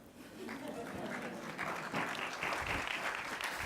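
Audience applause fills a summit hall as a speaker is welcomed, steady continuous clapping from a sizeable crowd throughout.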